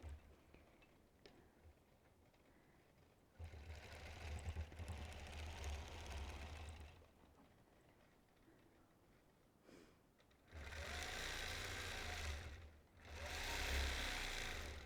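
A long-arm quilting machine stitches freehand arcs across a custom quilt, its motor running in bursts, with loud stretches of steady whirring separated by quieter pauses.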